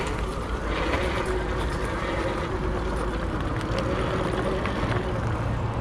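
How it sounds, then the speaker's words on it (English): An Ariel Rider D-Class electric bike rides slowly off-road up a hill in all-wheel drive on throttle. A steady, close rumble of tires and drivetrain on rough ground runs unbroken throughout, with no talking. "Now I'm going to do a little bit of off-road riding, some climbing, so got that in all-wheel drive mode."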